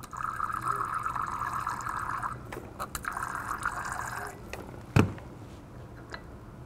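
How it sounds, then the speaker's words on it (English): Water poured in a steady stream, a bubbling fill that stops and resumes, followed by a sharp clunk and faint drips. "Just going to add a bit more water."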